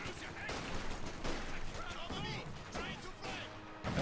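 Sustained MG42 machine gun fire in a Company of Heroes 2 match, bursts of gunfire and battle noise mixed under continuous commentary from a voice talking throughout.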